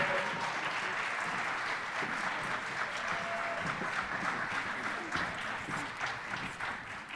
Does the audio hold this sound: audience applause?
yes